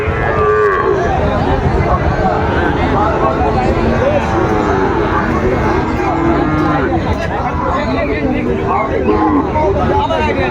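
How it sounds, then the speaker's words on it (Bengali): Sahiwal bulls mooing at a busy rural cattle market in Dinajpur, Bangladesh, loud overlapping bellows from many animals nearby over a constant crowd babble. "যেদিকে তাকায় সেদিকে গরু আর গরু"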